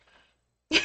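A single short, abrupt sneeze bursts out nearby after a moment of quiet, preceded by faint, indistinct talking.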